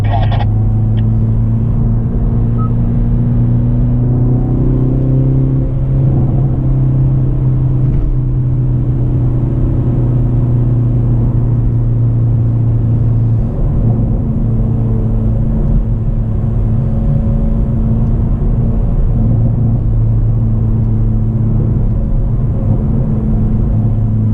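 A Hyundai Veloster N engine drones steadily from inside the cabin while driving, with blips and shifts in pitch as it downshifts with auto rev matching, loud and continuous, and a voice talking at moments.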